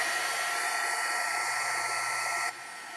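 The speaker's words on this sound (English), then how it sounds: "So let's take the heat tool." A heat tool blows hot air over wet watercolor paint, a close, steady, loud rushing whir that drops abruptly in level near the end, with no talk over it.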